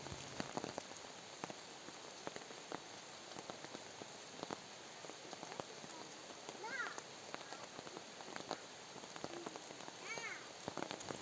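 Steady, soft patter of light rain drizzling across a surface at a bamboo house, continuous hiss with scattered faint drops and a distant chirp or two.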